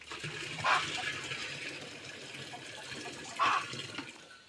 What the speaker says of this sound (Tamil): அந்த வயல்லேருந்து மண் அதை ஒரு ஒரு கிலோ அளவுக்கு எடுத்து இந்த மாதிரி கரைச்சி ஊற்றிக்கணும்